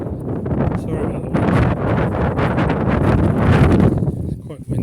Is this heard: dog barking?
no